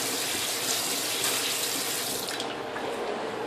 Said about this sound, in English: She's gotta wash that plate off too.